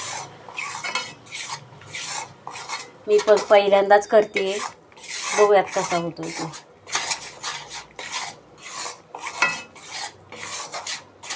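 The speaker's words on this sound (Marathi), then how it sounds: "गाईचं पावशर तूप तर कढईमध्ये तूप टाकून छान भाजून घ्यायचं पीठ मंद आचेवर" A metal spatula stirs and scrapes water chestnut flour roasting in cow ghee in a kadai over low heat. The rhythmic scrapes come in bursts between pauses, and someone talks over part of it.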